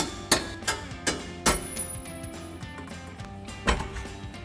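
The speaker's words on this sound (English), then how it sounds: "give them a tap with the hammer from the other side" Several sharp metallic taps ring out at uneven intervals, a hammer striking bolts out of a Mustang's steering and suspension close by, with quiet clinking between hits.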